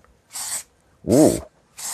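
Short hissing bursts of acrylic spray primer from an aerosol can, three quick sprays in a row, close and crisp, with a brief low voiced grunt overlapping the middle burst.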